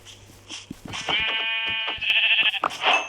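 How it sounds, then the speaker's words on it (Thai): A Minecraft sheep bleats in a long, wavering cry, loud and close, with fainter game sounds underneath and no talking. "เจอแกะแล้วเจอแกะ"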